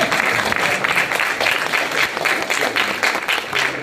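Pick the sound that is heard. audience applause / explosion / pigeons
audience applause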